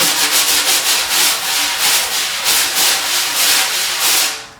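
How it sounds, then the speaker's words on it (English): Drum brush swept across a snare head in swish strokes, a loud airy hiss pulsing in a steady rhythm of repeated sweeps, close and alone. "So have fun with that swish stroke and come up with some great and beautiful sounds."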